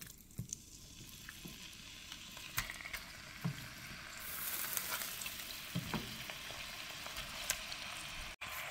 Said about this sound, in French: dans une casserole, j'ai 4 cuillères à soupe d'huile rouge et je vais rajouter ma viande à l'intérieur